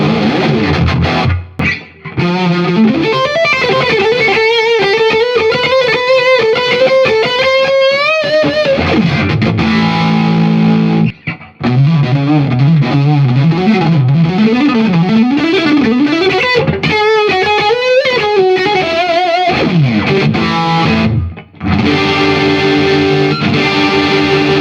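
An Ibanez PGMM11 mini electric guitar played loud through heavy distortion, with sustained bent power chords and vibrato swells, fast riffing runs, and brief pauses between phrases.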